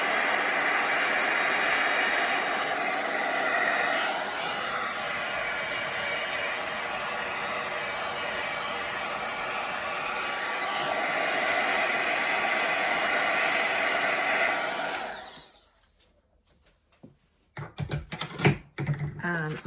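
A handheld dryer blasts air over a freshly painted watercolour card, a loud steady roar that holds for about fifteen seconds before cutting off, followed by a few scattered knocks and handling noises.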